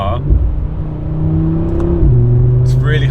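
A 2025 Audi RS3 engine revs while driving, a loud rising drone that climbs, then drops sharply at a gear change before pulling again, with a short burst of other noise near the end.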